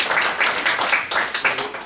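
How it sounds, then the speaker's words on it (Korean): Audience applause at a construction-site fire prevention forum, a short burst of many hands clapping together at close range, irregular and fairly loud, with no voices over it. "박수를 칠까요?"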